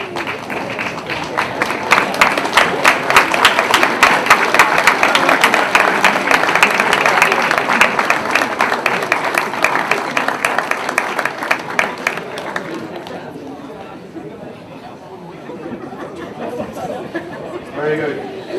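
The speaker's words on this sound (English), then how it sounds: "give those families, your families, a well-deserved round of applause" A graduation audience at an LIT Thurles conferring ceremony gives a sustained round of applause for the graduates' families. The dense clapping and crowd noise fade after about twelve seconds, and scattered claps and murmuring follow.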